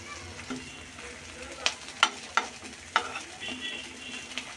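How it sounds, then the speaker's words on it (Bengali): Eggplant slices sizzle steadily in a pan of hot oil while a spatula flips them, producing several sharp clinks and scrapes against the pan over a continuous frying hiss, close up and without voices. "এক পিঠ যখন হালকা হয়ে আসবে তাহলে এই পিঠ আমি এভাবে উল্টিয়ে দিব"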